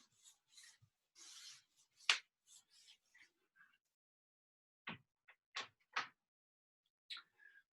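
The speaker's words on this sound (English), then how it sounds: "I'm going to erase this stuff up here." An eraser rubbing writing off a board during a math lecture, short scuffing strokes in bursts, then a few sharper wiping swipes, close and fairly quiet with silence between.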